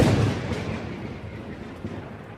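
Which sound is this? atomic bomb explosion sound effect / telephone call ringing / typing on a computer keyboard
atomic bomb explosion sound effect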